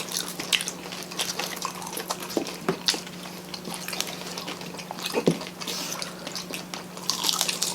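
Crispy chicharon bulaklak is bitten and chewed close to the microphone, giving irregular wet crunches and smacking clicks over a faint steady hum, with no talking.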